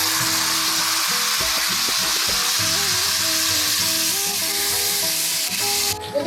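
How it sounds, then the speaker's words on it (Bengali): Boiled cashew and onion paste fries in a pan for a Khirod katla fish curry, a steady broadband sizzle with low scraping stirs running throughout, close and loud, with no voices. "এবারে আমি কাজু বাদাম আর পেঁয়াজকে সেদ্ধ করে যে বেটে রেখেছি সেটা দেবো।"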